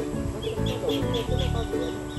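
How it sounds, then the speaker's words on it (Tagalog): Several chickens cluck in short repeated bursts at a backyard vegetable garden, close and moderately loud, with a rough rhythmic texture and low background noise. "Yung manok."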